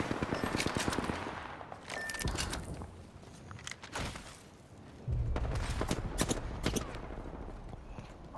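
Rapid bursts of automatic gunfire and scattered shots in the video game Apex Legends, coming in uneven clusters with quieter gaps between them.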